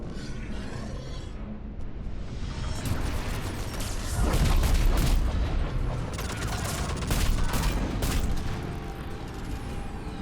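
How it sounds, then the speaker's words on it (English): Loud, chaotic battle sounds in the video game Mass Effect 3, with dense overlapping booms, blasts and crackling debris, swelling into heavier rumbling explosions midway and continuing with sharp bursts throughout. "With all the explosions."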